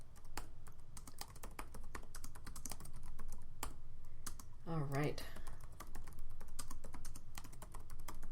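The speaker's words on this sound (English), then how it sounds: "I apologize for improper punctuation as I'm typing" Rapid clicking keystrokes on a computer keyboard run continuously at close range, briefly interrupted by a short spoken phrase partway through.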